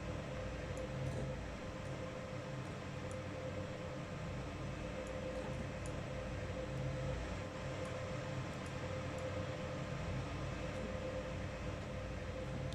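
A train rolls steadily in Train Simulator 2020, a continuous low rumble with a constant faint tone and occasional soft clicks, evenly loud throughout with no voices.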